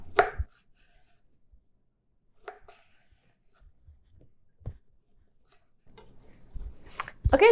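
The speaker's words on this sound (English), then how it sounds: "So let's cut up the ham." A knife slices ham on a cutting board for pasta salad, making a few sparse, sharp taps and knocks separated by near silence. Quick clatter builds toward the end.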